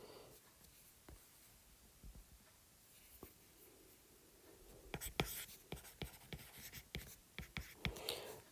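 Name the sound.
writing on a board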